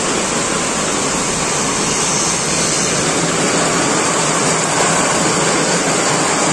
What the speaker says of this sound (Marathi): आवाज एवढा पावसाचा आहे ना, फुटपाथ करून चाललोय. बेकार पाऊस पडतोय